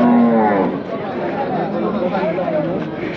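Bulls and cattle at a livestock market, a low drawn-out moo at the start rising over a busy crowd of chattering voices, with people talking nearby throughout.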